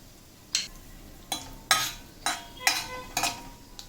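Bay leaf and cumin seeds, with cloves and a cinnamon piece, added to hot oil for palak paneer, heard as about six short, close stirring and sizzling bursts spaced under a second apart over a quiet background.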